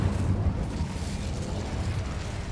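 An Incendio fire spell is cast in the video game Hogwarts Legacy, giving a short, dense whooshing burst of flame with a low rumble that holds steady for a couple of seconds.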